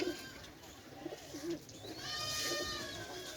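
A pair of teddy pigeons cooing nearby, soft repeated low coos with a few higher bird calls in the background, no talk.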